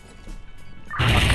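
A grenade goes off in the Bangladeshi competitive multiplayer shooter Zero Hour: quiet game ambience, then one sudden loud, close crashing blast that carries on to the end.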